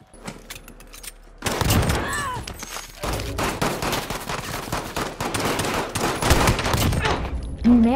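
Loud, rapid bursts of gunfire in Call of Duty: Warzone crackle almost continuously after a quieter opening, with the shots layered densely together.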